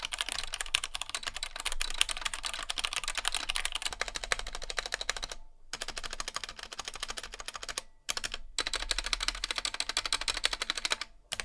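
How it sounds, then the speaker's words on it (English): Rapid, continuous clacking of a budget $50 Amazon mechanical keyboard being typed on, close and steady, with a few brief pauses between bursts. "here's how the keyboard sounds at a 5-second short typing test"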